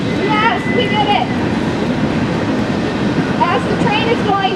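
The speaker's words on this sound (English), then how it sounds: "As the train is going by" A train rumbles past continuously near an outdoor Easter parade, a dense steady roar with intermittent high squeals and tonal whines, loud and close, while people talk over it.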